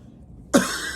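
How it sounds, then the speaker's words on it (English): A single short, sharp cough bursts out midway after near silence, followed by a brief lingering rasp, close to the microphone. "Still got that nagging cough, guys."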